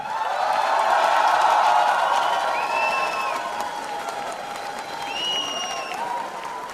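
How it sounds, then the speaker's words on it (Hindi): A concert audience at Rehmatein 7 bursts into strong applause, with thick clapping swelling early and then tapering. Shrill whistles cut through the crowd noise a few times. "शानदार तालियां"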